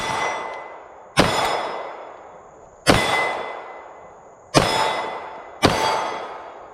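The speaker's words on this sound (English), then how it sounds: "let's shoot this thing a little bit" Four sharp pistol shots from a Canik Rival SFx Dark ring off a steel target at irregular intervals, each crack followed by a long, bright metallic ringing decay; loud and close, with no talking.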